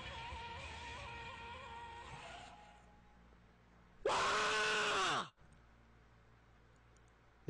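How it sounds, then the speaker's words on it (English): A loud, piercing scream in the Danganronpa video game bursts out for about a second after a stretch of quieter ambient sound, then cuts off sharply into low background hum. "It took me a second to realize I was screaming."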